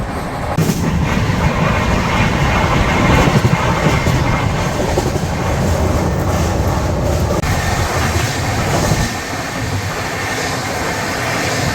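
The Rajdhani Express overtakes the Chandigarh Madurai Express with a loud, close, continuous rumble and roar of rolling stock as carriages pass alongside, and a faint clickety-clack running beneath it.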